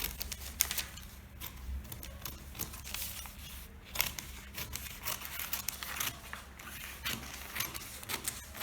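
Scissors cutting trouser fabric along a paper pattern for a women's elastic-waist trouser, with soft crisp snips and rustling of cloth and paper repeating steadily over a low background hum, close by and moderately quiet.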